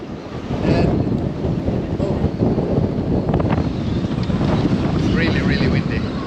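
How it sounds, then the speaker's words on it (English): Strong, gusting wind of over 40 knots buffets the microphone in a harbour, with a constant roaring rush of noise and faint water and rigging sounds underneath. "it's really, really windy."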